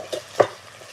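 Ginger and garlic sautéing in a home kitchen pan, a short stir and sizzle with one louder scrape of the ingredients near the middle, then a low steady frying hiss.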